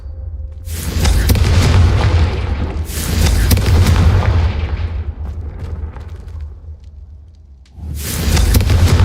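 Fiery Confringo spell explosions in Hogwarts Legacy: three loud, booming blasts, each a long roaring burst that swells and slowly fades, spaced a few seconds apart with no talk between them.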